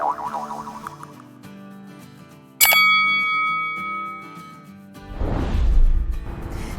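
A bright notification bell dings once with a sharp metallic strike and a long ringing decay, set among soft chiming tones and followed by a swooshing burst.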